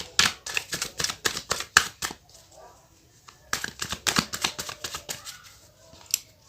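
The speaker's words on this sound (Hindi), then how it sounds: "मैं कार्ड शफल करना शुरू करती हूँ।" Tarot cards being shuffled by hand, crisp riffling bursts in quick repeated runs with a short pause midway, close and fairly quiet.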